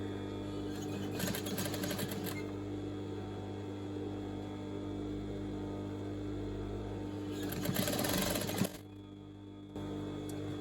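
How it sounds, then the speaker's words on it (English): An overlocker sewing machine stitches fine fabric with a steady, droning motorised whir; bursts of rapid clattering stitching rise twice, then the machine winds down to a quieter hum near the end. "Let me get that overlocking up there."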